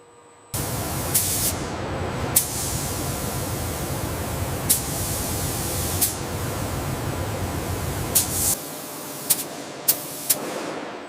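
Spray coating a wind turbine blade in a factory, a loud, steady hiss of spraying that starts abruptly, runs for several seconds with a few sharp clicks, and then cuts off.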